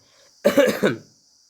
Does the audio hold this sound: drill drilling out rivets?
no